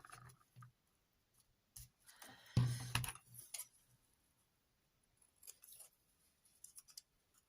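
Paper being cut with scissors while trimming a page for a homemade dessert album, heard as a few brief snipping bursts with a louder cut near the middle, then softer crisp snips afterward, close and without talking.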